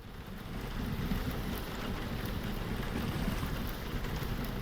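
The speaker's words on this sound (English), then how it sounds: "if you listen, you can hear the rain on the glass." Steady rain patters on greenhouse glass overhead in a video game, a dense, even hiss that holds without pause throughout.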